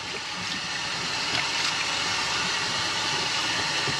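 Cold water pours steadily from a tap in an RV kitchen while dishes are washed, a constant close hiss and splash that stays even throughout without talk.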